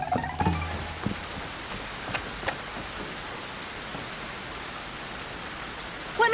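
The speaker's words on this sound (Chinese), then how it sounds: "外面这么大雨" Heavy rain pours down outside, a steady hiss of falling water with a few sharper knocks and taps standing out over the constant wash.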